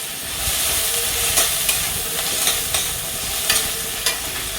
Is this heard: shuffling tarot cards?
no